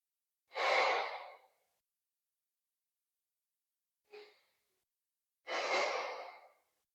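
Two slow, deep breaths during a yoga class, each a long airy exhale with a brief soft inhale between them, close and quiet against silence.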